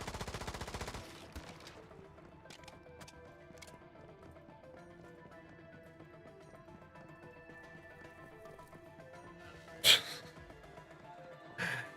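PDW-90 submachine gun fire in Once Human, a rapid close burst at the start, scattered shots afterwards, and a sharp loud crack near the end, with a quiet voice under the action.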